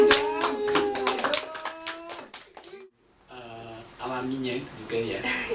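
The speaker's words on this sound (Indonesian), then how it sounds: "Hebat, tepuk tangan dong." Audience applause breaks out after a young dalang and sinden's Javanese wayang performance, a burst of clapping mixed with voices, then a short pause before talk resumes.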